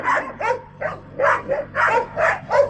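Dogs bark and yip in a rapid string of about eight sharp, fairly close barks with brief gaps, some sounding high and whiny.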